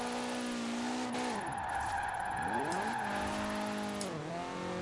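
A lightweight, low-powered Mazda MX-5 is pushed into a sideways slide, its engine note swooping up and down in repeated revs with a thin tire hiss, moderately distant.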